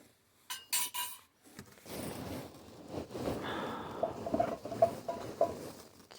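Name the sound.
handling silver-plated spoon, likely 1847 Rogers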